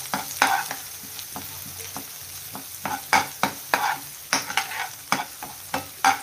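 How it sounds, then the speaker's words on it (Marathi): Methi aloo masala sautéing in a pan over medium heat, a low sizzle under a rapid series of rhythmic spatula scrapes and taps, close and clear with no voices. "आणि त्याला व्यवस्थित परतून घ्यायचं."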